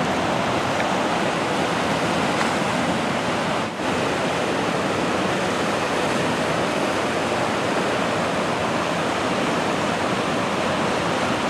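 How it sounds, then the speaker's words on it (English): A river runs strongly after heavy rain, a steady broadband rush of flowing water that stays loud and unbroken throughout with no voices. "River's still running pretty good down here though."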